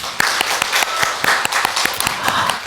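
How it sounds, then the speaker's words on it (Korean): A church congregation at a Sunday service claps for a group of elderly members, a close, fairly loud round of applause with distinct individual hand claps scattered through a dense patter. "박수 한번 쳐드릴까요?"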